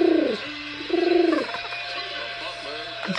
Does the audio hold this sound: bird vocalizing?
yes